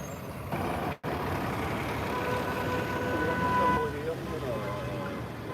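A city bus rumbles close by on a Manhattan street during the March 2020 state of emergency, its engine droning steadily with a brief dropout, a hiss and some tonal whines as it moves, mixed with street noise.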